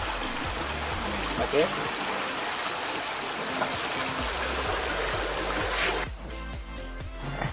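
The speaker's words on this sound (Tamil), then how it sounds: "இங்கே பார்த்தீங்கன்னா நிறைய தண்ணி ஓடிட்டுருக்கனால மீன் பொறியை இழுத்துட்டு போகுது" River water rushes fast over stones where a homemade fish trap is being set, a steady, loud, close roar that runs throughout, with a voice speaking briefly over it.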